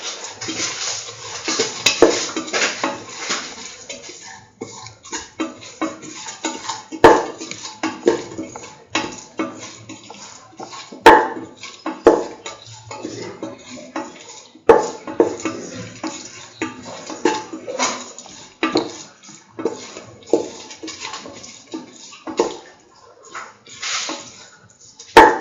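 A spoon scrapes and clinks in a cooking pot while curried lentil rice with salt is mixed, with steady uneven stirring, scraping and tapping for the whole stretch, no voices.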